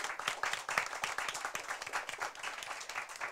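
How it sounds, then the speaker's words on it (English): A crowd at a debate and impromptu speaking competition applauds the Snowville Richards Academy team, a dense and steady wash of many hands clapping that holds for several seconds without any speech. "give them a round of applause"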